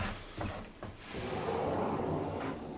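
A sliding barn door rolls along a metal track, making a steady low rumble that builds and carries through the second half, with a few light knocks from the hardware before it.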